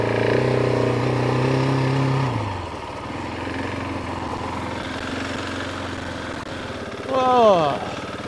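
A KTM 690 Enduro single-cylinder motorcycle engine idling with a steady low throb, then the tone drops as the bike pulls away, followed by rough running and a brief rising rev near the end.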